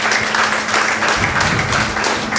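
A packed auditorium at a gender equality event gives a steady wash of applause for Preethi, with clapping held at an even, fairly loud level throughout.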